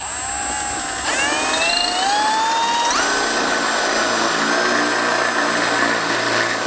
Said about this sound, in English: So I've got it on regular drill mode.